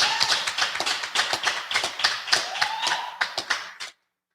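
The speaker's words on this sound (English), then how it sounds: "Give yourselves a round of applause for being here." A small audience claps for itself, an irregular patter of close, crisp handclaps that swells and then stops abruptly, leaving silence.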